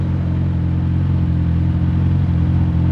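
A Campagna T-Rex fitted with a Kawasaki ZX14R engine holds a steady, loud, rumbling engine tone with a slight rise, close and continuous with no talk.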